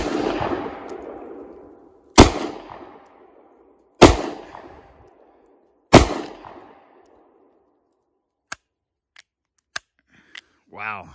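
Three sharp, loud .22 WMR gunshots from a Thunderstruck rifle fired about 10 feet from the target crack out at even intervals of roughly two seconds, each with a short ringing decay, followed by a few small clicks.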